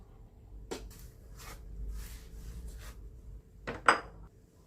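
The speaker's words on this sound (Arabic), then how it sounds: "وهكمل تقطيع السلق" A knife chops Swiss chard on a cutting board in a home kitchen, giving a few sharp cuts with irregular spacing, close and fairly quiet, with one louder clack near the end.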